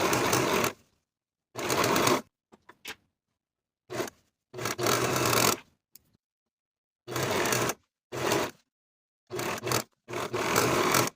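A sewing machine runs in several short bursts, stitching finishing stitches along pant pieces at the crotch curve, each run starting and stopping abruptly with quiet pauses between.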